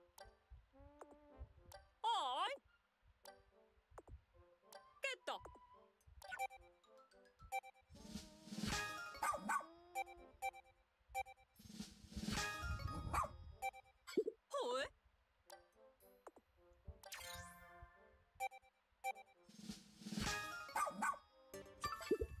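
A cartoonish dog in the video game Pikmin 4 barks and yips in scattered bursts among game sound effects and musical jingles, with a player speaking intermittently.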